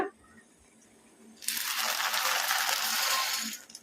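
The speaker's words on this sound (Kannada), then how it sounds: "ಈಗ ಇದಕ್ಕೆ ನಾವು ಒಂದು ಸ್ವಲ್ಪ ಸೋಯಾ ಚಂಕ್ಸ್ ತೊಗೊಂಡಿದ್ವಲ್ಲ, ಈಗ ಇವನ್ನ ಹಾಕೋಣ." Soya chunks tumble into a cooking pot, a sudden loud rattling pour that starts after a quiet moment and continues for about two seconds before stopping.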